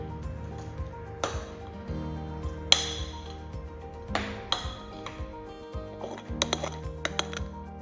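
Slime mixture tinted with food coloring stirred in a bowl, with a utensil clinking and ringing against the sides in irregular taps, close up with no voices.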